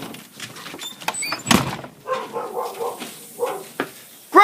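A door thuds shut indoors during a Charleston snowstorm, a single dull knock heard among dog barks and rustling.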